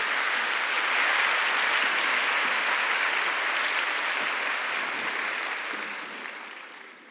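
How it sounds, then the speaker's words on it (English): An audience at the Shikshayatan Foundation centenary celebration applauds after a presentation, a dense, steady wash of clapping that holds for several seconds before tapering off. "Can we hear a big round of applause for this wonderful presentation?"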